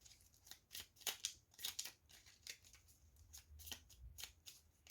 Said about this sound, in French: on va continuer un petit peu à tirer des cartes